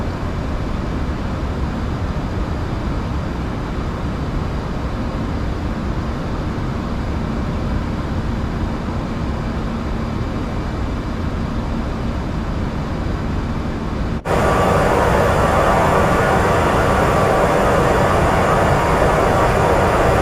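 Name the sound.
Lufthansa A340-300 taking off, Microsoft Flight Simulator 2024 video game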